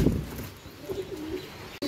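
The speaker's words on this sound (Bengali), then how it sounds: "ঘুঘু পাখিটা এই বৃষ্টির মধ্যে এখানে ঢুকেছে কেন?" A spotted dove, or ghughu, coos during rain, its low soft calls close and brief against steady rainfall.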